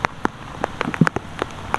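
Rain falling outdoors near crab catchers, heard as scattered, irregular drops and light splashes striking a surface close by, fairly quiet with no voices.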